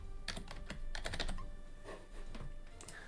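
Rapid typing on a computer keyboard, with bursts of close, clattering keystrokes in an irregular rhythm and short pauses between runs.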